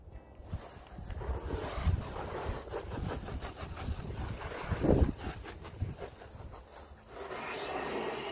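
Water rinsing car wheel rims and wheel arches: a steady broadband spray with gusty, rushing texture throughout, near and fairly loud, with brief louder surges.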